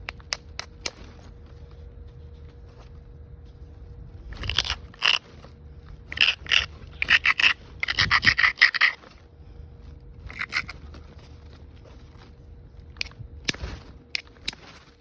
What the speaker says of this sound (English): You're just taking little bitty flakes where you need to.